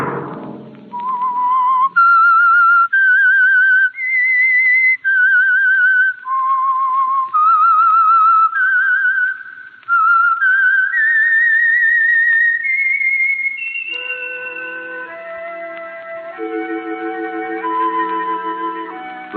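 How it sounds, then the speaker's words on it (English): A whistled theme signal for The Whistler radio mystery show, a lone eerie melody of sustained, sliding notes climbing step by step, followed by an orchestral sting. "Let that whistle be your signal for the Whistler each Sunday night at this same time."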